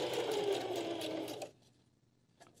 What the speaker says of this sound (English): then I sew it on a different colored material